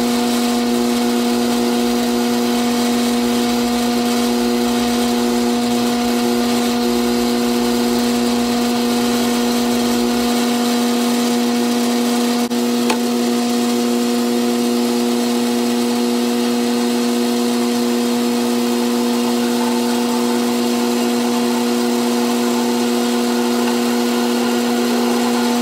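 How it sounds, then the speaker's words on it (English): A drill turning a 5/16 bit through metal for a dimple die, with oil applied, gives a steady, loud motor drone and whine that holds throughout, its low rumble dropping away midway. "Here I've got the 5/16 drill bit."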